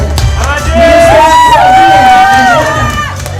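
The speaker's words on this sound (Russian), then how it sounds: "Аплодисменты ресторана «Махтал» всей команде Алексею Федорову" At a restaurant culinary contest final in Yakutia, a crowd cheers a team's award with loud, sustained whoops and shouts, close and continuous.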